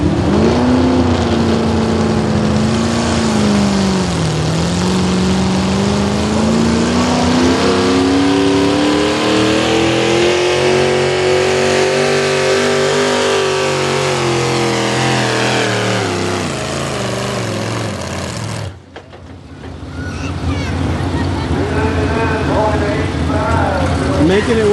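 A 5,000-pound V8 modified pulling tractor roars loud and close at a tractor pull in Orange, Virginia, its engine note rising and falling as it hauls down the track, then cutting out sharply near the end before a brief idle, with an announcer talking over it.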